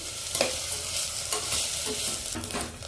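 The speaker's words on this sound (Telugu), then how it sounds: "కొంచెం క్యారెట్ ఇవన్నీ కొంచెం ఫ్రై చేస్తాను" Carrots and other vegetables fry in a pan for an oats dish, making a steady close sizzle broken by three distinct stirring scrapes spaced about a second apart, with no talking.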